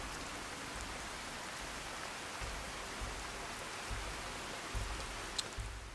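Steady rainfall at night in the video game Fallout 4 makes a soft, even hiss of rain with a faint low rumble underneath, and no voices.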